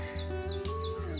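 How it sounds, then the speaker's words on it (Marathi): Birds chirp near farmland with a repeated short sweeping call over a steady low hum, clear but brief and moderately close, with no talking. "पक्ष्यांचा आवाज तुम्हाला ऐकायला येतोय."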